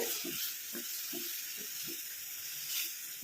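A homemade hair dye mixture is stirred steadily, with soft rhythmic scraping strokes about twice a second over a continuous quiet hiss, heard alone and close.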